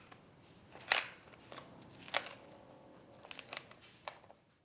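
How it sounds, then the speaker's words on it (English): Scissors snip through animal ribs and soft tissue during a small-animal necropsy, with a few sharp cutting clicks spaced across the clip, the loudest near the start and middle, set against quiet background noise. "Then cut the ribs close to the thoracic vertebrae and sever any remaining soft tissue"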